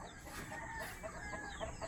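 Young hens of a junglefowl breed cluck softly and sparsely, short faint calls against quiet background noise.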